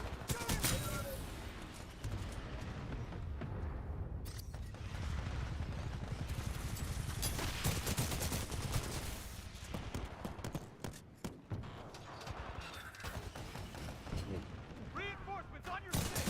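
Gunshots and heavy artillery fire crash almost without pause through a video game battle, loud and dense across the whole stretch, with a few sharper blasts standing out.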